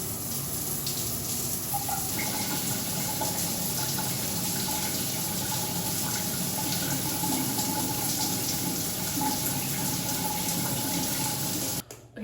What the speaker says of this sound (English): Okay, done with the shower.